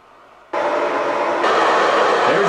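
White noise test signal from the front right speaker of a faulty Denon AVR-S700W AV receiver: broadband hiss bursts on abruptly after a brief quiet start and holds steady and loud, shifting slightly in tone partway through.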